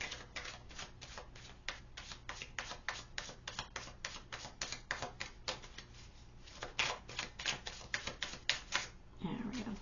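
Tarot cards being shuffled for a pick-a-card reading, a steady run of quick, dry riffling flicks close to the mic, continuous for most of the span, with a soft voice entering near the end.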